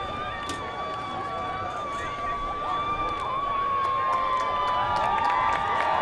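Hastings home crowd cheering at a high school football game against Tartan, sustained roar of many voices with shouts and whistles, building louder toward the end and heard from a distance.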